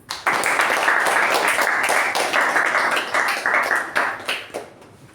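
Audience at a Toastmasters meeting applauding to welcome a speaker, a sustained burst of close, lively clapping that tapers off with a few final claps.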